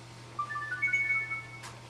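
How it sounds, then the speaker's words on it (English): A cell phone ringtone goes off during a review of a CTRL Industries Carioca Ipanema jiu-jitsu gi, a short run of bright electronic beeps and tones sounding moderately loud over a faint steady background hum. "that is what happens when your cell phone goes off in the middle of a gi review"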